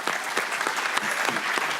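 An audience at a Play 4 All panel event claps for the panelists. Dense, even applause fills the whole stretch at a steady level, with no voices heard over it.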